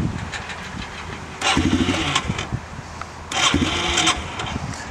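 Yamaha Timberwolf 250 ATV engine running on a cold day with the choke on, a steady idle rumble with two louder surges of revving, close and alone.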